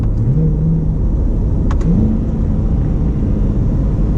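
The nearly 500-horsepower 6.2-liter V8 of a 2020 Chevrolet C8 Corvette Stingray Z51 roars loudly and continuously, its pitch climbing through gear shifts as it accelerates hard.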